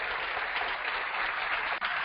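A room of audience members applauds, a dense, even wash of clapping heard alone, held steady and moderately distant for a couple of seconds.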